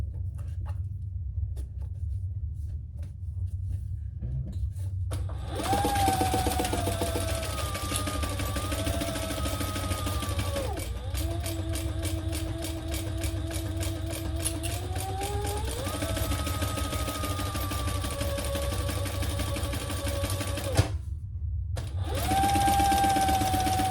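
A sewing machine bastes around the bottom of a sling crossbody bag in long continuous whirring runs. The motor pitch shifts slightly, and there are short stops between stretches of stitching.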